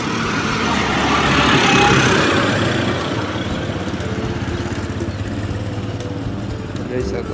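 A tractor engine, recently stuck with a punctured tire, runs with a loud, steady rough diesel chug, close by, swelling slightly early on and then holding even, with someone talking over it.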